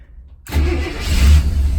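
A 1966 Cadillac engine is started with a push-button starter: after a moment of near silence it catches at once and settles into a loud, rumbling idle close by.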